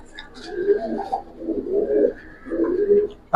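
Giribaz pigeons of the Palla line coo in soft, low, rolling phrases, three close bursts with brief pauses between, near and alone with no talk.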